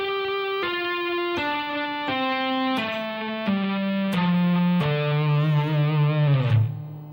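Electric guitar playing legato hammer-ons and pull-offs through a distorted effects chain, a descending run of smooth stepped notes about every half second, loud and close, ending in a bending final note that fades.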